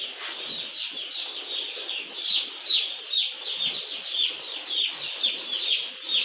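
Broiler chickens on a raised slatted bamboo platform give a steady chorus of high-pitched clucks and cheeps, pulsing in a regular rhythm, close and fairly loud.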